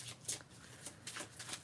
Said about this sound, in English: Give me one moment to shuffle the cards.